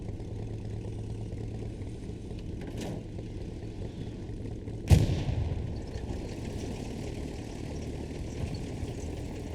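Hell Let Loose tank combat: a low engine rumble runs throughout, broken by one sharp, heavy cannon blast with a fading echo and a fainter earlier shot, no talk.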